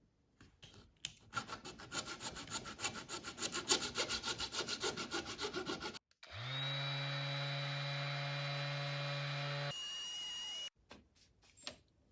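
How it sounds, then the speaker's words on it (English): Sandpaper rubs back and forth over the plastic of an LED tube assembly, a quick rhythmic rasping for several seconds, close and fairly quiet, followed by a steady electric hum and then silence. "just get some sandpaper and carefully shave off some of the plastic"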